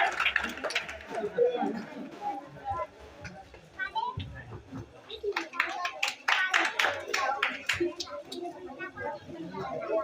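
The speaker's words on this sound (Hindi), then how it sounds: "ताली बजाओ तो" Children clapping at a Teachers' Day school event, scattered bursts of hand claps mixed with a voice and chatter, moderately close.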